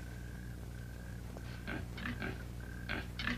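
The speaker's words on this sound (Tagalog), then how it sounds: "Kaya pala maingay yung baboy" A pig grunts in short, repeated bursts over a steady low hum, the noises growing louder and more frequent toward the end, with no voices present.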